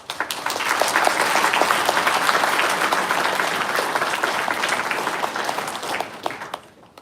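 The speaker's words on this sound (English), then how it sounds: "Let's take a moment to give a round of applause to all parents and loved ones who stood by our graduates every step of the way." Sustained applause from a large audience at a university pharmacy graduation convocation, dense steady clapping filling the hall for several seconds before fading out at the end.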